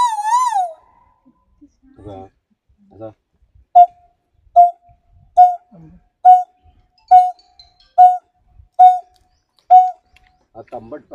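A wildlife voice artist imitates a coppersmith barbet, giving about eight evenly spaced, hollow 'tuk' notes in a steady rhythm, close and clear, with brief softer vocal sounds before and after.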